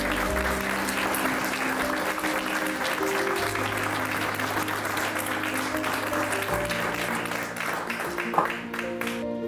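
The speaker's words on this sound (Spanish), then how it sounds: "Un fuerte aplauso" Sustained audience applause fills a hall at an interreligious dialogue event in Madrid, a steady broad wash of clapping with music or tones underneath, holding level throughout.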